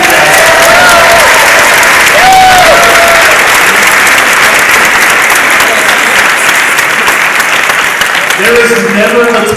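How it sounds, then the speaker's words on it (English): Loud, sustained applause from a large convention crowd at a charity event, dense and continuous throughout, with cheering voices and a few shouts riding on top. "Huge round of applause for the 50 guys"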